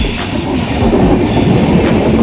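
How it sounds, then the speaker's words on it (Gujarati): A Bandra–Bhavnagar Terminus superfast express train rolls in at a large station platform, a loud, steady rumble of railcars with rhythmic wheel clatter and a faint metallic squeal running throughout. "અમારી ટ્રેન આવી ગઈ છે।"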